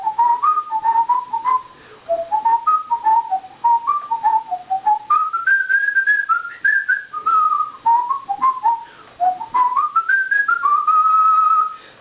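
A person whistling a lively Irish tune, a clear, close melodic line of rising and falling notes with short breath gaps between phrases, slightly out of tune in places, with no other sound.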